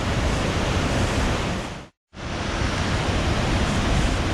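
A waterfall in Colombia roars as a loud, dense, unbroken rush of falling water and spray, briefly cut out to near silence for a moment in the middle before the roar returns at full strength.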